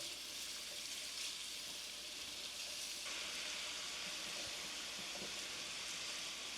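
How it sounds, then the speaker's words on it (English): Beef sizzling in a hot frying pan over medium heat, a steady, even hiss of frying that holds at a moderate level from start to finish, with no talk. "Yep, starting to sizzle."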